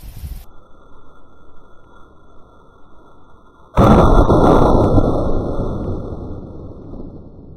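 A .243 Winchester rifle fires Deer Season XP ammunition through a row of boards outdoors, one sudden loud report that decays into a long rumbling tail over a steady background hiss.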